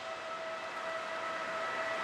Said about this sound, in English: regional train pulling in with really, really nice, clean, new cars